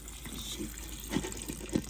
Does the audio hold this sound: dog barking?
no